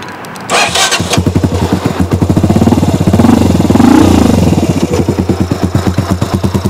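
A Kaisar Ruby 250 motorcycle modified as a bobber, started up and left idling: after a brief starter whir, the engine catches into a loud, close, deep bassy thumping idle with a steady pulsing rhythm and a slight rev swell.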